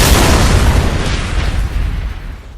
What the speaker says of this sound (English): Carl finds a use for his Mickey Mouse bomb.